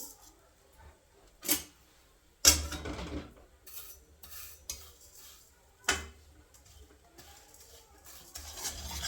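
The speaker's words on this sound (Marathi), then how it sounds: "त्याला सारखं असं हलवत राहायचं." White sugar stirred in a pan for til papadi: intermittent scraping and clinking strokes of a spoon against metal, a few sharper knocks between quieter stirring, close and fairly faint.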